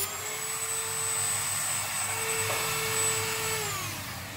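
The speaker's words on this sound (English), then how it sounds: "So I'm going to use the Dremel tool to cut that metal off." A Dremel rotary tool cuts through the sheet metal of a chest freezer, giving a loud, steady high-pitched whine with a sustained tone that dips slightly at the end as the cut finishes, no talking.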